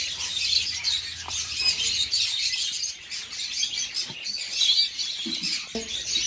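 Dense chirping and twittering from many birds at a Bangalore animal and bird sanctuary, continuous and fairly close, with a few faint lower sounds underneath.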